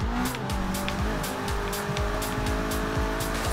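A race car in Forza Horizon 3 accelerates hard into a curve, its engine revving in rapid repeated upshift sweeps with tire squeal, loud and close throughout.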